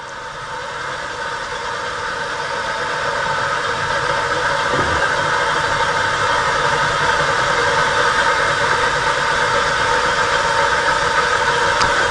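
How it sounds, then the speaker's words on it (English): An ST-270 spin rinse dryer coasts down under its internal brake, a steady droning mechanical hum with a faint whine that builds slightly early on and then holds evenly, close and continuous without speech. "Now we're going, it's spinning down on its own. There's an internal resistant brake that's slowing it down."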